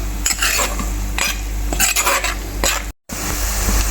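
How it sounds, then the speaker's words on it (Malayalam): Ginger, garlic, green chilli and curry leaves frying in a pan make a lively sizzle punctuated by repeated spoon-on-metal stirring scrapes and clinks, close and loud, with a brief dropout near the end. "അപ്പോൾ നമ്മുടെ ഇഞ്ചിയും വെളുത്തുള്ളിയും പച്ചമുളകും പച്ചമുളകും കറിവേപ്പിലൊക്കെ മൂത്ത് വരുന്നുണ്ട്"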